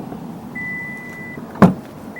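A car's electric power tailgate opening, with a steady motor whine running for about a second, then a sharp mechanical clunk as it releases, all close by with no talking.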